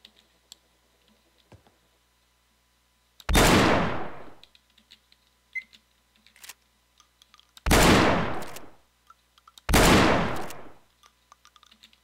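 Three loud, sharp gunshots from the video game Receiver, each with a decaying boom tail, spaced a few seconds apart over quiet background with scattered small clicks between them.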